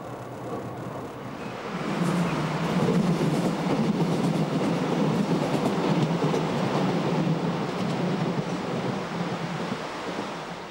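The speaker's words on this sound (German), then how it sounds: "Die neuen 120 km/h schnellen Triebwagen bewähren sich sofort." A DB class 628 diesel railcar runs along the track with a steady, loud rolling rumble that swells after the first two seconds and holds, with no voices.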